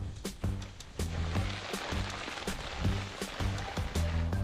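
Rain drumming on plastic film stretched over a self-built pool and Nordic bath project, a dense steady patter with sharp irregular drop hits close by, continuous over several seconds with no talk.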